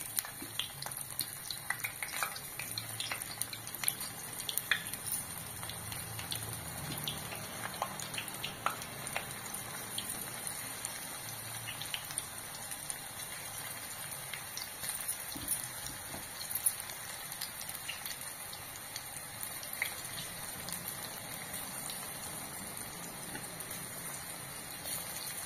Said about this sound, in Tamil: பிணைஞ்சிட்டு சின்ன சின்ன பக்கோடாவாக எண்ணெய்க்குள்ளே போட்டு எடுத்துக்கணும்